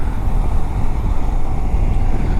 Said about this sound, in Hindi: तो गाइस अभी बाइक एक बार फिर से स्टार्ट तो हो गई है।